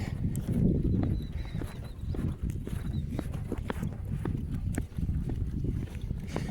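A couple of horses run around nearby, giving uneven hoof clip-clops over a dusty roadside with low rumbling background noise.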